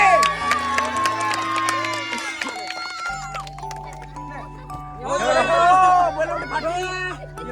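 Crowd cheering and clapping at an outdoor village game, a lively mass of voices that swells loudly near the end amid background talk and music-like tones.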